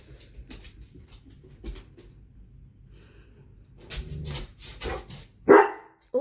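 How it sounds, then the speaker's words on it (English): Dogs indoors barking in short, scattered bursts at varying distances, with a louder sharp bark near the end, and no talk. "Oh my goodness, these dogs are annoying."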